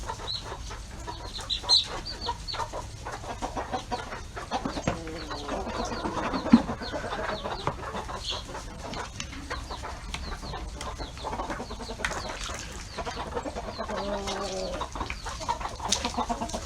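A backyard flock of chickens being readied for colder weather clucks and murmurs at a moderate distance. Scattered, irregular clucks run throughout over a steady outdoor background.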